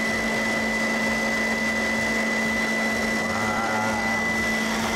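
A mixer whisks egg whites with hot sugar syrup for French macarons, a loud steady motor whir with constant tones running unbroken throughout, no talking.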